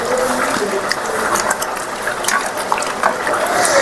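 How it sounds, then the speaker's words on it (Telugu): Wet squelching and squishing from hands kneading green chillies, onions, salt and tamarind juice together for pachipulusu, a continuous close, busy texture with irregular small splashes and no voices. "ఇప్పుడు ముందుగా వేసిన పచ్చిమిరపకాయలు, ఉల్లిపాయలు, ఉప్పు, ఇవి 3 అండ్ ఇందాక వేసుకున్న చింతపండు రసం అన్నీ కలుపుకొని ఇట్లా పిసుక్కోవాలి బాగా"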